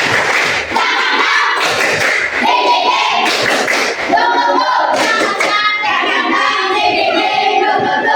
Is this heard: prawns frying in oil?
no